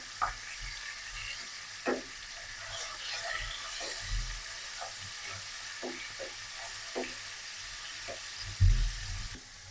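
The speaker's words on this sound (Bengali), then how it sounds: "মাছের মাথাটা লাল লাল করে ভেজে নেব মশলা করে।" Fish head frying with spices in hot oil in a kadai, for a muri ghonto: a steady close sizzling hiss with occasional soft clinks of a spatula against the pan, and no voices.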